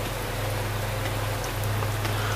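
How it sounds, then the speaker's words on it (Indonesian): Heavy rain pouring steadily, a dense continuous hiss of drops with a low constant rumble beneath, no voices. "gelegar suara guntur yang sesekali terdengar di tengah hujan lebat"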